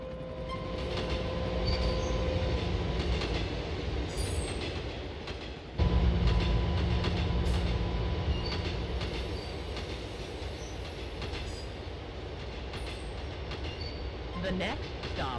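Subway train in GTA IV rolls along with steady rumbling wheel noise, clicks and faint squeals, a sudden louder burst midway, continuous and fairly close throughout.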